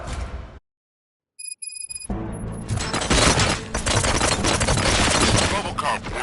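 Film gunfire from a RoboCop scene: after a brief silence and a few high electronic beeps, a loud burst of rapid automatic shots erupts and continues as a dense, chaotic barrage with crashing impacts.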